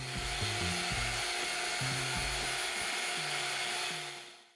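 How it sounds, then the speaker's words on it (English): A power sander with a fiber disc grinds steadily against an aluminum wheel with a harsh, hissing abrasive roar, its motor pitch shifting in steps as pressure changes. "we'll use a fiber disc where it'll go through and the fiber disc itself will strip off all that dirt"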